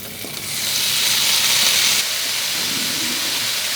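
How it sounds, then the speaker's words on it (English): Steady hiss of a single strip of bacon frying in a hot pan rises within the first half second and holds, a bright crackling sizzle that eases slightly after two seconds. "just put 1 piece of bacon in, and when that starts sizzling"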